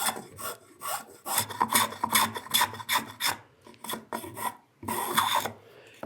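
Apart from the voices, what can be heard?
spokeshave shaping a wooden stool chamfer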